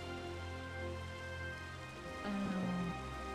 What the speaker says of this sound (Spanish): ¡Se ha puesto a llover!